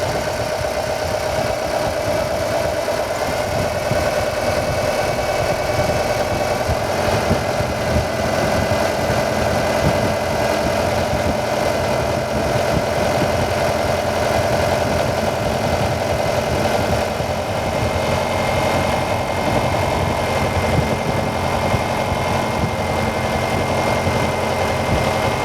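A car's hydraulic pump runs steadily after being changed, a continuous mid-pitched mechanical hum and whir with faint knocking vibration, constant and close throughout without speech.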